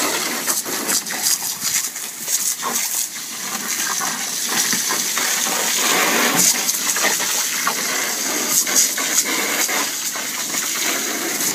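Dog playing in pool water, with continuous splashing and gushing water close by, busy broadband sloshing with scattered sharp splash bursts throughout.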